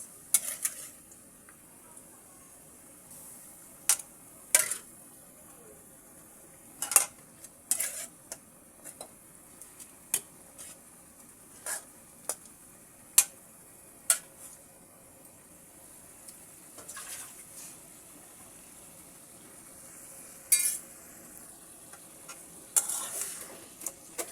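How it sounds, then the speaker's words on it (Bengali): Rohu fish with potato and tomato is stirred in a pan. Sharp spatula scrapes and clacks come at irregular intervals over a faint, steady frying hiss, close by, with no talking. "মাছটাকে এবার আমি সুন্দর করে নেড়ে নিচ্ছি।"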